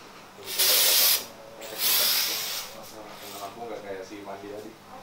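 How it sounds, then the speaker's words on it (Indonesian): Quick hissing bursts from a spray can during a makeup session behind the scenes of a TV show, two loud sprays followed by softer spritzes, with people talking over them. "Saya semprot, cepat semprot kebersihan."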